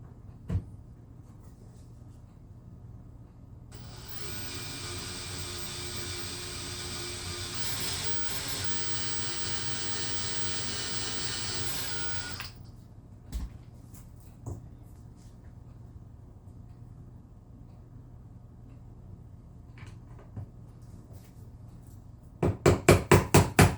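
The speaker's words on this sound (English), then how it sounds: "Now we'll drill the second one." A steady, hissing power drill whirs continuously for about nine seconds, drilling a pin hole in a Damascus knife kit handle, followed by scattered light knocks and a short burst of rapid clicks at the end.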